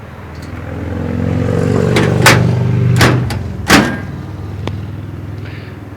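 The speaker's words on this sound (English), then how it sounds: "you could hear it still starts up just fine. It runs great." A 1940 Oldsmobile 70 Series car idling steadily up close, a low rumbling engine with a couple of sharp clunks and knocks over the running motor.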